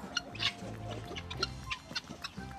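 Chickens and roosters, including Leghorn and Isabel birds, cluck and call in overlapping bursts close by, with low background noise throughout.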